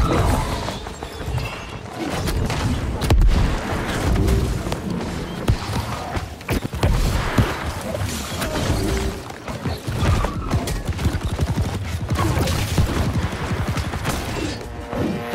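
Detonate-ability explosions in the New World video game, heavy booming blasts and crashing impacts layered over dense continuous battle noise, loud and chaotic throughout.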